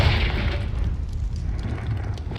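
A Confringo blasting spell explosion in the Hogwarts Legacy video game, a loud, sustained booming blast with deep rumble that holds steady throughout without a break.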